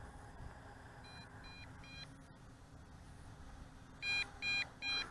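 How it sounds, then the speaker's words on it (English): Three loud, evenly spaced electronic beeps from a JJRC JJPRO X5 EPIK quadcopter giving its low-voltage warning, preceded by fainter beeps over a steady background hum. "looks like 3 beeps."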